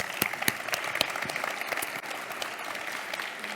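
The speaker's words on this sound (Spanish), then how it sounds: "le podemos dar un aplauso, ¿eh?" Audience applause at a conference session, a dense steady patter of many hands clapping at moderate volume, with a few sharper individual claps standing out, continuing evenly throughout with no speech over it.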